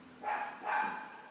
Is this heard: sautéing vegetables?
no